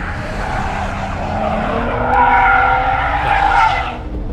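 A BMW car drifts with a long, wavering tire squeal under a loud engine roar, the screech swelling and then easing off.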